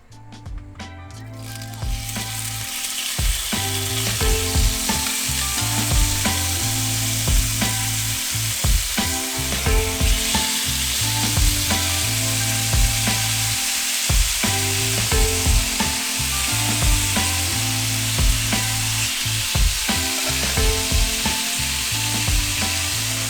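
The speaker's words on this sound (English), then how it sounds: "you want your steak to be as dry as possible to get a good sear on it" Beef steak sears in a hot pan, a loud, dense sizzle running steadily throughout with repeated scraping and clattering strokes on top, close and with no talking.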